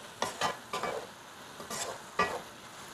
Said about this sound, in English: Give this a nice good mix.